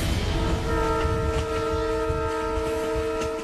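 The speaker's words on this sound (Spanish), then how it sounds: "Son los trenes más extremos del mundo." An Indian train rumbles past with a steady, loud horn blaring through the whole stretch, its harmonic tones held over the rolling rail noise.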